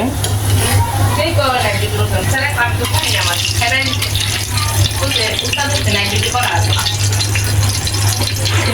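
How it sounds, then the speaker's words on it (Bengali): Cooked dal being tempered in a pan, a continuous hiss and crackle of sizzling with a low steady hum underneath, while someone talks over it throughout. "ডালও হয়ে গেছে, এটাকে বাগার দিয়ে দিব"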